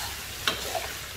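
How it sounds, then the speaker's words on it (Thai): Sweet pork sizzles in a hot wok as it browns, with a quick scrape of stirring breaking through the steady frying crackle. "ผัดไปสักพักนะคะให้หมูขึ้นสีหน่อยนะคะ"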